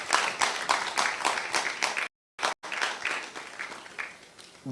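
Audience applause at a road safety forum, a sustained patter of clapping that stops abruptly midway, briefly returns, then resumes at moderate level before fading.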